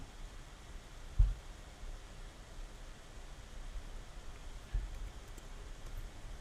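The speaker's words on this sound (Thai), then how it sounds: "เสียงฝนเดี๋ยวนี้ก็มีความเสมือนจริงมากขึ้น" Rain falling in the video game Minecraft, version 1.9 snapshot, a steady soft hiss of rainfall that continues evenly throughout with a couple of faint low thumps.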